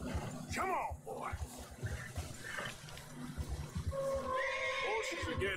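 Horses in Red Dead Redemption 2 whinny and snort in a snowy mountain setting, several sharp neighs near the start and a longer cry toward the end, mixed with hoof and wind noise.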